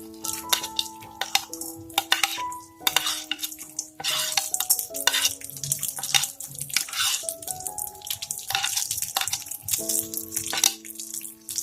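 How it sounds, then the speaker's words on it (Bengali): Almonds, cashews and raisins are stirred in hot ghee in a pan, with soft, irregular scraping and clinking from the spoon and a faint light sizzle over a steady tonal background. "এবার আমি ওর মধ্যে সমস্ত ড্রাই ফ্রুটগুলো দিয়ে আমি হালকা ভেজে নেব।"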